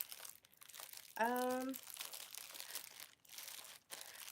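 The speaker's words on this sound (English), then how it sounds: "I'm making enough crinkle noises." Plastic wrapper crinkling runs throughout, with a short voiced sound partway through, close to the microphone.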